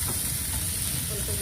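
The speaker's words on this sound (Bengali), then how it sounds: "কম তেল শরীরের মধ্যে ভালো করে ভাজা হচ্ছে" Lote fish frying in a little oil in a pan gives a brief, steady, close sizzle.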